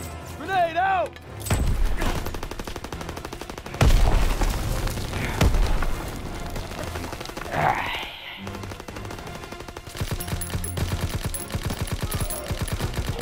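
Loud machine-gun fire in Call of Duty WWII, World War II first-person shooter gameplay, with rapid bursts and booming shots spread across the clip and a person talking excitedly over the gunfire.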